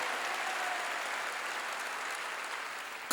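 Steady applause from a church congregation during a Korean pastor's sermon, a dense even wash of clapping that holds at a constant level for a few seconds without voices.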